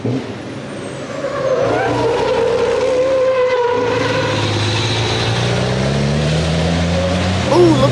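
Toy Hot Wheels trucks and SUVs race down a plastic track loop and crash, a rolling rumble that swells with whooshing and rattling, ending in a sharp clatter.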